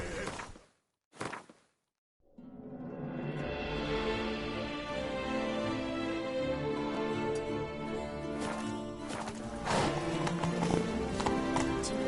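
Roach, a horse in The Witcher 3: Blood and Wine, gallops with steady, driving clip-clop hoofbeats that run loud and continuous after a couple of brief opening sounds, with a whinny-like swell near the end.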